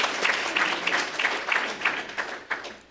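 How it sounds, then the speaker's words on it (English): Crowd at a Chicago mayoral campaign event clapping in a rhythmic unison beat, about eight regular claps merged with looser applause, fading toward the end. "Clap for that."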